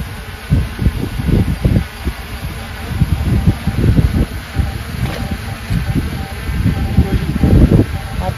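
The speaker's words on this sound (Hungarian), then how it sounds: "Nem kis szél van, hanem elég nagy" Strong wind buffets a microphone outdoors in rough gusty bursts, with low rumbling gusts throughout and a faint high whine from a DJI Mini 3 Pro drone.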